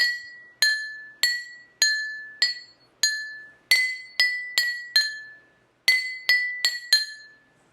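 Drinking glasses holding different levels of water are tapped one at a time, each strike a crisp ringing clink that decays quickly, in an uneven series of about fifteen taps at varied pitches, close and clear with no talking.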